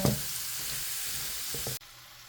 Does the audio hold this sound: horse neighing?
no